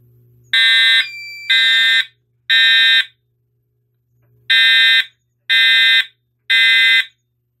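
A FireLite MS-5UD fire alarm panel re-alarming, its horns blaring loud and close in a repeating temporal code of three short blasts, then a gap, then another three.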